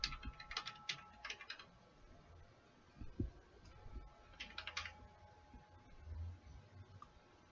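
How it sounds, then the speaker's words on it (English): Keys tapped on a computer keyboard to enter a password, in short quiet bursts of clicks separated by pauses, faint and close with low background hum. "let me go and type the password that I would want to use here"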